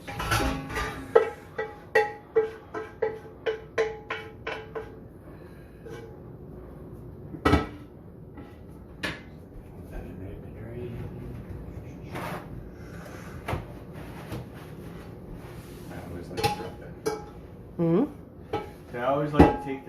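A pan of cooked hamburger is handled while grease is drained, bringing a quick run of sharp metallic clanks and knocks, then sparser scrapes and bumps over a quiet kitchen background, with a few more clatters toward the end.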